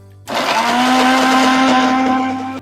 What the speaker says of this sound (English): remember to every now and then turn off your blender while it's working